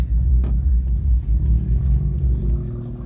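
Modified cars rolling in to a car meet in Belgium, a low engine rumble close by with a brief rev near the start, holding steady and then easing off.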